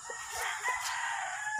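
A gamecock rooster at a game farm, a three-time winner, crows in a strained, sustained call over a steady background hiss, fairly near with no voices present.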